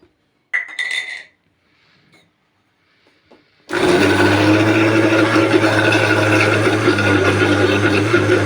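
Syrian-style garlic sauce (toum) made from minced garlic is beaten in a bowl: a few light clinks at first, then a loud, steady mechanical whir that runs without a break.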